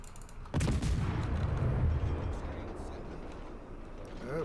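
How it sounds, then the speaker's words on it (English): Incoming battleship shell impacts in World of Warships fired by the Republic, a heavy boom followed by a long rumbling roll that slowly fades, with no one talking over it. "here comes the Republic's shells"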